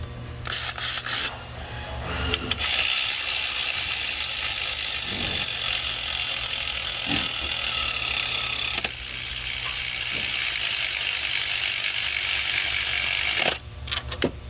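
A torque wrench tightens timing chain bolts to 11 foot-pounds on a Ford 3.5L DOHC engine, giving a steady, close, continuous ratcheting and mechanical clatter that lasts almost the whole time.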